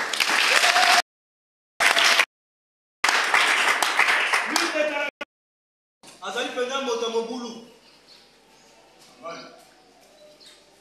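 Church congregation applauding together for the Lord, a broad burst of clapping that stops and restarts in chunks before fading into a softer, scattered patter.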